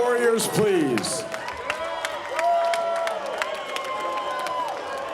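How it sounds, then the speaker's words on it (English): Arena crowd at a bare knuckle fighting event at Hard Rock Live in Hollywood, Florida, cheering and clapping for both fighters, with whoops and a sustained musical tone rising over the noise and an announcer's voice. "let's have a great round of applause for both warriors, please."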